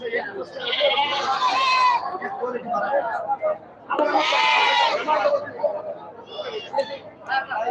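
Black Bengal goats bleating at a busy livestock market, several loud, wavering calls overlapping in bursts with crowd chatter in the background.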